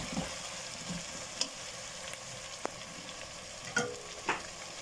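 Chicken sizzling and frying in a pot, a soft steady crackle with a few sharp scrapes and knocks of stirring, close and quiet.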